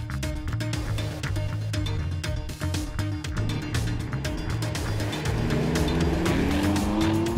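A Mercedes-AMG GT sports car with a 4-litre V8 drives hard, its loud engine note rising and falling through gear changes, with a tyre squeal near the end.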